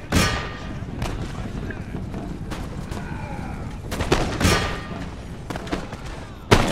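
Grenadiers in Empire: Total War letting off a volley: several sharp gunshot cracks and booms scattered through the battle noise, with a loud final blast near the end.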